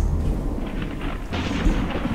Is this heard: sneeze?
no